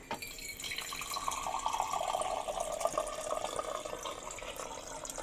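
Tap water runs steadily into a glass or vessel for drinking in a home kitchen, a continuous close splashing trickle with faint drips.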